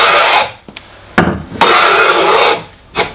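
A trying plane takes long continuous shavings off a wooden board, each pass a steady close rasping hiss lasting about a second, separated by short pauses and brief scrapes as the plane resets.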